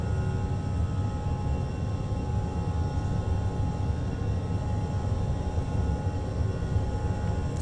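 Engines of an A321 airliner at takeoff thrust in a flight simulator give a steady, loud roaring drone with a constant whine, unbroken throughout and without voices.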